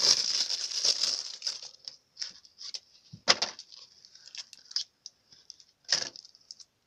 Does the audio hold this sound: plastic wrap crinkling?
yes